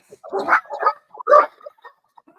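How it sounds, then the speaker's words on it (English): Several dog barks in quick bursts, fairly close, with some yipping between them and a voice mixed in. "I have no clue why they barking, but okay."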